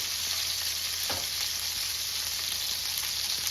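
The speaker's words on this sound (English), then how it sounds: "Now we will make sure that side sears off real good." Hand cut pork chops sear in a hot pan, giving a steady, loud sizzle and crackle throughout with a few brief pops and spatters, no voices.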